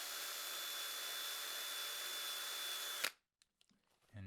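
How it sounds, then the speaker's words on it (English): A drill running a 3/16 bit in reverse to ream a hole in a 3D-printed toy blaster, a steady high-pitched motor whine that cuts off abruptly, followed by a few small clicks and handling sounds. "I'm going to real quick ream this out ever so slightly with a 3/16 drill bit"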